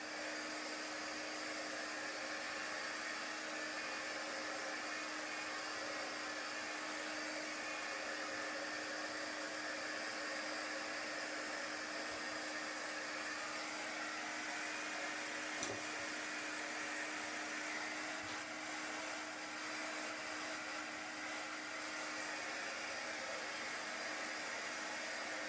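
A hair dryer blows steadily to dry chalk paint on the back of a cut-out pumpkin craft, a continuous close whir with a constant hum that runs unbroken for the whole stretch, with no talking.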